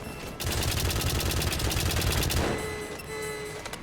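Turret gunfire in the video game White Knuckle rattles as a rapid, loud automatic burst lasting a couple of seconds, then cuts off, leaving a fainter mechanical hum and scattered clatter.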